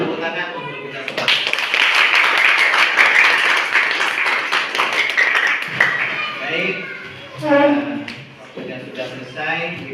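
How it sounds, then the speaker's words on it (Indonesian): Students in a school classroom clapping together in a loud, dense burst that fades after several seconds, followed by a teacher and children talking. "Tepuk tangan untuk kita semua"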